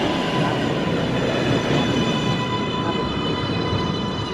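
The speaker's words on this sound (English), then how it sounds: "There is a train approaching track 2." An NYC subway train approaches a station platform at Lincoln Center with a loud continuous rumble and steady high whine of wheels and motors, with no talk.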